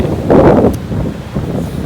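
Cold coastal wind along the Great Ocean Road buffets the microphone in loud gusts, a rumbling whoosh that swells early and then settles into a lower rush.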